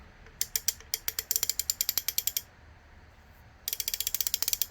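A fine-tooth ratchet wrench from a Husky toolbox clicking in quick, even bursts of crisp metallic ticks, two runs separated by a short pause, close and fairly quiet.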